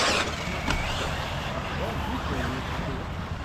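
A 1/8 scale Hobbytech NXT XR brushless buggy passes on a race track, its motor whine rising and falling, with other buggies heard on the track and someone talking over it.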